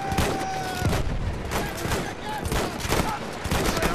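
Battlefield 1 battlefield gunfire from the Storm of Steel campaign crackles in dense, rapid bursts of shots and booms, loud and continuous, with a faint tone beeping underneath.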